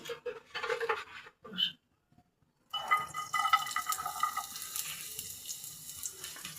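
Chopped onion dropped into bitter gourd frying in soybean oil over low to medium heat gives a steady close crackling sizzle after a brief quiet gap, with an earlier burst of sizzle and clatter before it.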